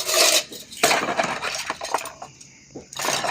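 Dishes, pots and cutlery clink and clatter as they are washed by hand with stored rainwater in a rural Filipino home, close, irregular metallic knocks and scrapes with a short lull before the clatter resumes.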